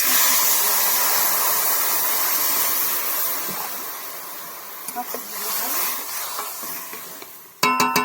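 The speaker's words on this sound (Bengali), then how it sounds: "এবার আমি জল দিয়ে দেবো।" Water poured into a pan of frying fish curry, a loud hissing sizzle that slowly fades, then sharp clatters at the end.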